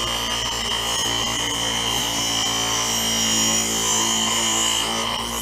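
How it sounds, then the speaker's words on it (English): A bar grinder grinds a chainsaw bar with a steady, close, high-pitched whine and a faint rasp of the grinding contact that swells slightly toward the middle and continues unbroken throughout. "Here's my bar grinder"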